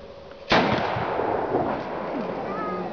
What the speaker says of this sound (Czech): výstřel nákovnice z tarasu s berlemi a dělů